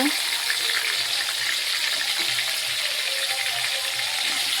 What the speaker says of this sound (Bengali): তারপরে এখানে তেল গরম হয়ে গেছে, আমি আলুগুলো ভেজে নেব।